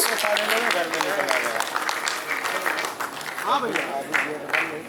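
A crowd at an Uttar Pradesh agricultural award ceremony applauds as an honoree is called, a moderate burst of clapping that carries on under a speaking voice.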